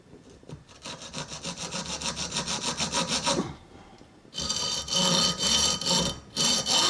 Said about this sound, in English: with a few file strokes we have the radius